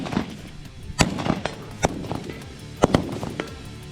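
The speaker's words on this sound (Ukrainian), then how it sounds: "Тренуємося влучати в мішень з автомата Калашникова." Several sharp gunshots from a Kalashnikov assault rifle crack out at irregular intervals on a shooting range, some in quick pairs, with a faint metallic ring after a few hits on a metal target.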